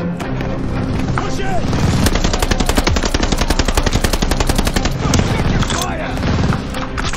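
Rapid sustained machine-gun fire in the Call of Duty Vanguard war campaign, loud and dense bursts rattling continuously with explosions and battle noise, while a voice speaks briefly over it.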